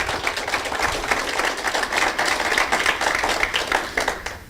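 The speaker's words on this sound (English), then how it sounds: "Let's give them another round of applause." An audience claps in sustained, dense applause after a classroom performance about the Bill of Rights, loud and even throughout before tapering slightly at the end.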